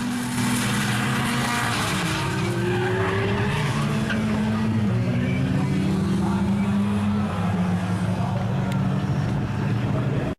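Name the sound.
GT race car skidding on wet asphalt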